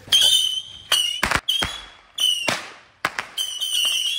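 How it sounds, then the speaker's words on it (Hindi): Missile firecrackers launching during Diwali, with several sharp whooshing hisses and loud cracking bangs in quick succession, close by and intense, with a shrill whistle running through much of it. "आज के दिन की शुरुआत करते हैं मिसाइल वाले पटाखे से"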